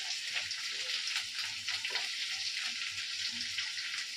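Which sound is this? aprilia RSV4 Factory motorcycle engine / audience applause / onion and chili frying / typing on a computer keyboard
onion and chili frying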